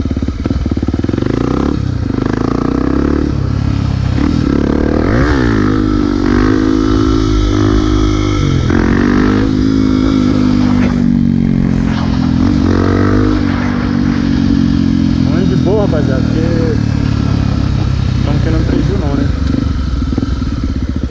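A motorcycle rides and slows under braking, its engine droning steadily with rising and falling revs and clattering road noise throughout, close and loud under a rider talking.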